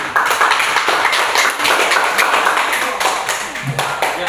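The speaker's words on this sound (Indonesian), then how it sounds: "beri tepuk tangan untuk kelompok 3" Students in a classroom clap for group 3 after their presentation, a close, busy patter of hands mixed with some tapping and scattered voices.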